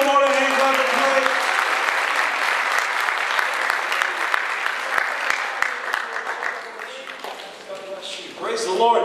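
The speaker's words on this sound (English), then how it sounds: "Let's give the Lord a hand clap of praise." A church congregation applauds in praise at the end of a service, with sustained loud clapping and voices calling out over it throughout.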